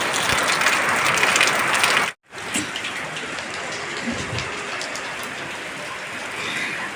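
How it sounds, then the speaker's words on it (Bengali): Heavy rain pours down outside, a dense steady hiss of drops on surfaces, loud and continuous apart from a brief cut near the middle. "দেখো কীরকম জোরে বৃষ্টি নেমেছে প্রচণ্ড বৃষ্টি হচ্ছে"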